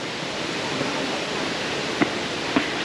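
Kroeng Krawia Waterfall in Khaolaem National Park, Thailand, roars as a steady, dense rush of falling water heard close by, with a couple of brief knocks near the end and no talking.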